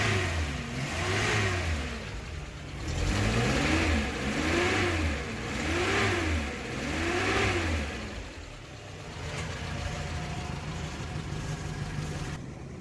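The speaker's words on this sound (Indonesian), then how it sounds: "suara mesinnya masih lumayan halus" A Suzuki Carry pickup engine runs nearby, rising and falling through several rhythmic revs before settling into a steadier idle toward the end.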